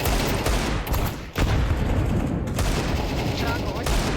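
Rapid gunfire bursts in Counter-Strike 2 on the Mirage map, loud and dense with a brief break, mixed with game noise under a talking voice.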